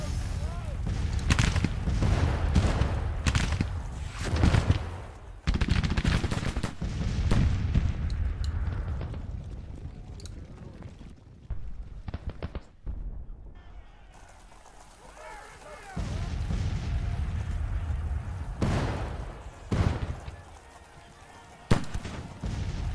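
Civil War artillery guns firing in the video game Grand Tactician: The Civil War, repeated heavy booms and crackling volleys in bursts, separated by quieter gaps, with someone talking over them.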